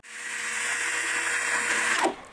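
Dongcheng DCJZ20160i hammer drill spinning freely at speed setting 2, a steady high-pitched motor whir held close for about two seconds before spinning down at the end.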